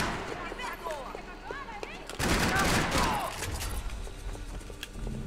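Bursts of gunfire in a Max Payne 3 multiplayer match on PC with dual Berettas, a loud cluster of shots and impacts mid-clip amid game effects, with a player talking over it.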